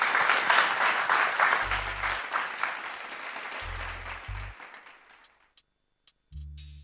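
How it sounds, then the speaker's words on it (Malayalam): Audience applause from a comedy show crowd, a dense burst of clapping that thins out and fades to scattered claps and silence after about five seconds. "ഒന്ന് കൈയടിച്ചേ."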